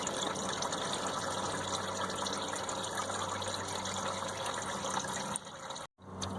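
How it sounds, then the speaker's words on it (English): Automatic transmission fluid draining from a loosened 4T65E transmission pan, a steady unbroken trickle and splash that runs on continuously before a brief break near the end. "So I'm going to let this drip for a while."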